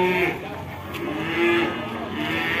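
Cattle moo at the Jetis cow market in Ponorogo, where Limousin cross heifers are for sale; a drawn-out low moo rises over the busy market hum, with people talking nearby.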